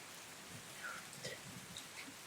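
Soft rain ambience plays during a tabletop game session, a faint continuous patter with scattered droplets, low and steady.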